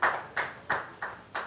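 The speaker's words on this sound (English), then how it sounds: "let's have a nice round of applause from our studio audience" Studio audience applause at a Woodward Sports show, heard as five short, evenly spaced bursts of hand clapping at close range, with no talk over them.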